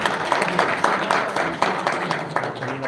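An audience at a Punjab University prize ceremony in Lahore applauds to welcome a speaker, with steady, moderately loud clapping that runs for about three seconds under a murmur of the crowd.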